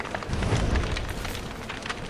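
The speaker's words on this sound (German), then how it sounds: "Ich mach hier mal Feuer." A campfire being lit in the survival video game Don't Starve Together gives a soft, crackling burst of fire that stays faint and brief, with no voices over it.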